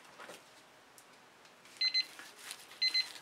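A timer during an acrylic fluid painting session, two pairs of short, high, quiet electronic beeps over a soft, faint background.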